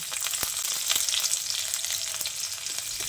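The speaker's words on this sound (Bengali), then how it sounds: "এবার রসুন আর কালো জিরেটাকে দিয়ে নেড়ে চেড়ে মিশিয়ে নিচ্ছি।" Chopped garlic and nigella seeds fry in hot oil for a cauliflower dish, a steady, bright sizzle throughout with occasional stirring scrapes and no voices.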